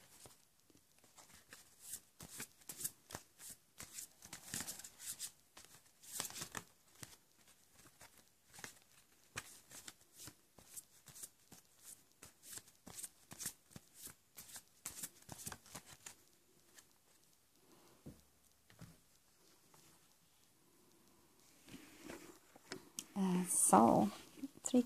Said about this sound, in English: So I will also take some card from the past life oracle card for you.